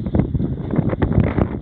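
Wind blows outdoors across a concrete job site on a cold, sunny, windy day, buffeting the microphone in steady low gusts with no talk.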